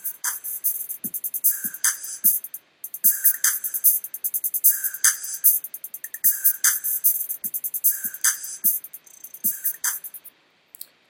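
A drum-like rhythmic loop filtered through two morphed convolution impulse responses, with repeating bright, hissy bursts and low thumps in a steady pattern and brief gaps, clean and with no talking.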